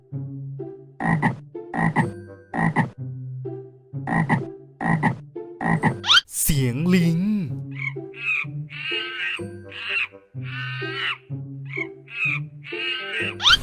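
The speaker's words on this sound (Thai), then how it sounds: "เสียงกบ" Loud, close frog croaks in rhythmic bursts, a deep repeated call answered by higher rasping croaks, with no talking.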